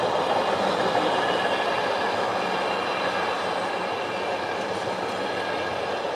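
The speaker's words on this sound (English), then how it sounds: "It's the longest train in the history of the world" A very long train rolls past close by, a loud, steady rumble and rattle of wagons that holds for the whole stretch without letting up.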